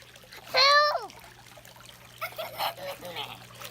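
A sharp, high squeal, then a run of soft, close water splashes and trickles in a swimming pool, in uneven bursts.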